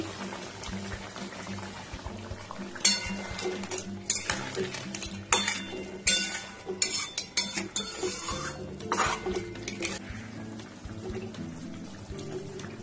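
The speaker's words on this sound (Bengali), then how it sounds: "ঢাকাটা খুলছি" A lid comes off a pot of simmering crab kosha curry with potatoes, followed by a run of close metallic clinks, clatters and scrapes over a soft bubbling background.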